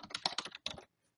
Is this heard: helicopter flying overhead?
no